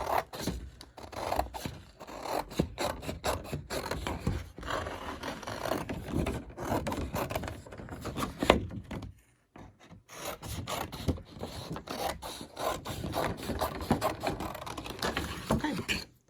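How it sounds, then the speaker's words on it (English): Steady crisp snipping and rasping of paper scissors cutting out a paper sewing pattern, continuous with a short pause midway, close and fairly quiet. "So I'm just going to cut this pattern out."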